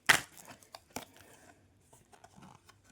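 Tarot cards are pulled and shuffled from a deck, giving a sharp close papery rip at the start, then scattered soft crinkles, slides and light taps at low level, with no speech.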